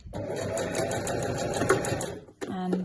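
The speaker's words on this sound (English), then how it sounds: "just to sew down that edge there" A sewing machine with a jeans needle, regular thread and medium tension stitches down the edge of a weekender bag handle, a steady mechanical whir running under a voice before a short pause and restart.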